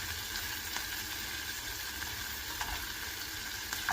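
Chopped onion and garlic, with green chillies, sizzle in a pan for a cilantro chutney, a steady close crackle and hiss with small pops throughout and no talking.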